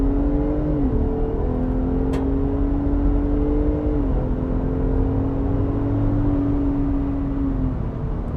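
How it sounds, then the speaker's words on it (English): A Ford Raptor pickup truck accelerates on an open road, its engine droning close and loud from inside, with the pitch climbing through gears and dropping briefly at each shift before climbing again. "Quite a bit of fun to drive these Raptors, and there is a sport mode that you can drive in that'll make it even more aggressive than what I'm doing right now"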